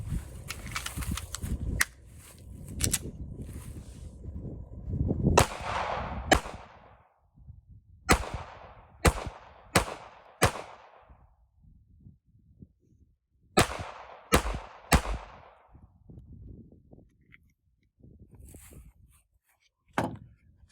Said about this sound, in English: Let's shoot the first rounds through this gun and just see what our initial impressions are.